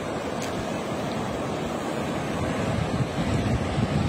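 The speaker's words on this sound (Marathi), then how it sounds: "इतका सुंदर समुद्र" Sea waves on the Konkan coast, a continuous washing roar of surf mixed with wind buffeting the microphone, swelling slightly toward the end, with no voices.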